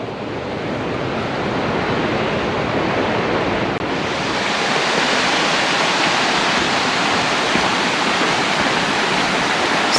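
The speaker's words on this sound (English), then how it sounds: "We're getting close. I can hear the roaring water." Roaring water of Abrams Falls on a Smoky Mountains hiking trail in Cades Cove, a loud continuous wash of white noise that swells slightly louder partway through, with no voices.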